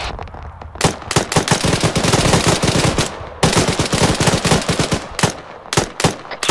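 Gunfire in the military shooter game Arma 3: loud, dense bursts of automatic fire in rapid repeated volleys, with brief pauses between strings of close, sharp shots.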